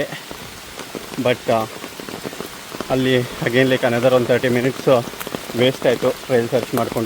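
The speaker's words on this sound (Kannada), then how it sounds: "ಸೊ ಮಳೆನೂ ಜಾಸ್ತಿ ಆಯಿತು" Heavy rain pattering steadily during a trek to Belligundi Falls near Shivamogga, Karnataka, a continuous wash running beneath a person speaking throughout.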